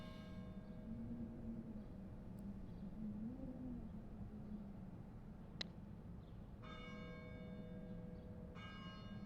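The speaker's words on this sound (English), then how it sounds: "ringing of the bell is it's a cute touch" Church bells from the video game Getting Over It ring faintly in a few spaced, resonant strikes with long tonal decays over a steady low hum, and nobody speaks.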